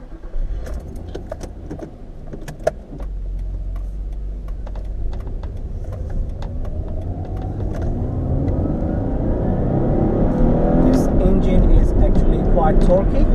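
A 1997 Mazda 323 Astina with a 2-litre V6 cranks over amid key and cabin clicks, then catches and settles into a steady idle that swells louder toward the end, heard from inside the car.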